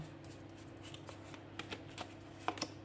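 A tarot card is drawn from the deck during a reading, giving soft card-handling rustles with small slaps and flicks near the end, close and quiet against a low steady background hum.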